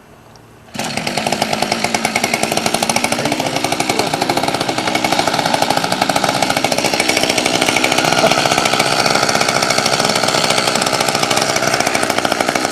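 A chainsaw runs loud and steady on a riverside outing with a pig-trough boat, kicking in abruptly after a quiet start and then cutting continuously at high revs with a harsh buzzing drone.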